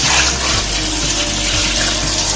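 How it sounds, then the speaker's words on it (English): Cold tap water runs steadily over a soft Vietnamese rice cake being rinsed in a kitchen sink, a continuous close-up splashing rush with no voices. "Now we're rinsing the rice cake with cold water to harden it"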